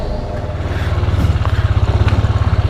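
A motorcycle ridden past a flooded church at close range, its engine idling with rough low chugging, then revving into a steady, rapid pulsing throb that grows louder and more regular.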